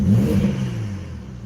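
A Chevrolet C5 Corvette engine gives a quick throttle blip, a loud low rev that surges and then falls away as the RPM drops, heard close up with no talking.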